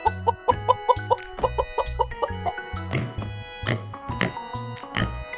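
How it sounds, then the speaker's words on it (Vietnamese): A chicken clucks in quick repeated bursts, several rapid clucks in a row carried over a light rhythmic tune. "Con gà."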